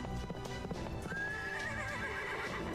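Horse hooves clip-clop steadily in the game Fate Grand Order, a close rhythmic clatter that runs throughout. A drawn-out neigh rises partway in.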